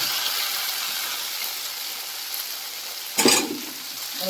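Maggi noodles cooking in a pan with a Dairy Milk chocolate mixture, giving a steady, close frying hiss that flares into a brief louder burst near the end, with no talking.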